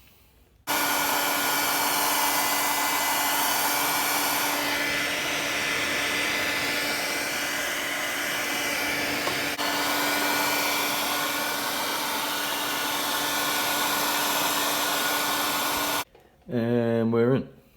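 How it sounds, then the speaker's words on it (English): Heat gun heating silicone sealant on a Nissan S13, a loud steady blowing whine that starts abruptly and runs for about fifteen seconds before cutting off, followed by a brief burst of talk. "I'm just gonna hit it with the heat gun one more time"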